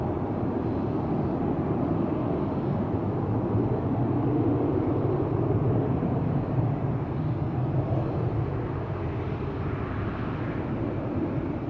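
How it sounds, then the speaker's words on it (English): KLM Boeing 737-700 airliner departing Amsterdam Schiphol Airport, a loud continuous jet engine roar that holds steady for several seconds and eases slightly near the end. "This is KLM flight 1901, 737-700, the PHBGG, Bravo Golf Golf."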